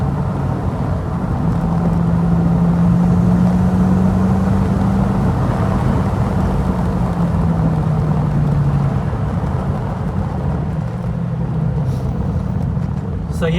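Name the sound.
V8 car engine while cruising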